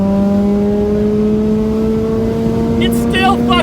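A Mazda RX8 rotary engine revs hard through third gear toward 9,000 RPM, a loud steady rising drone heard from inside the car, with excited voices breaking in near the end.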